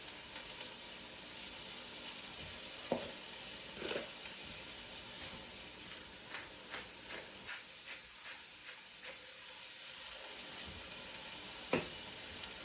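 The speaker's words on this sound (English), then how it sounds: "So you're sweating nice and slow in a flavorful fat until the vegetables are soft, no color." Vegetables sweat slowly in flavorful fat in a covered pot for matzo ball soup, giving a soft, steady sizzle with occasional faint clinks and stirring sounds, fairly quiet and with no one talking.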